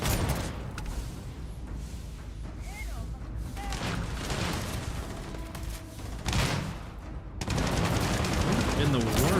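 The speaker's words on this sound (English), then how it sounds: "The gun's got explosive rounds on it." Repeated gunfire from a gun firing explosive rounds in Starfield, punchy blasts and crackling bursts scattered through a noisy firefight, with someone talking over parts of it.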